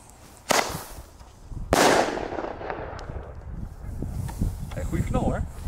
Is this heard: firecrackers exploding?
yes